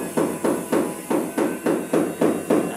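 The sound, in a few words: hammer pounding floor tiles during tile laying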